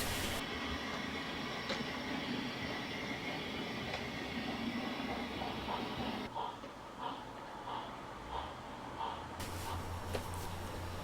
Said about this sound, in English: Shunting the train is a slow process.